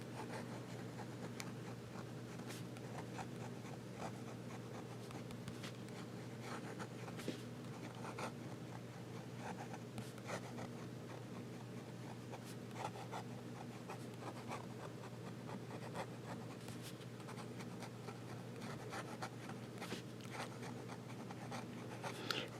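A Hero 565 fountain pen with a fine nib scratches steadily across paper while writing reverse strokes, a faint, continuous dry scraping that runs on for over twenty seconds with no talk.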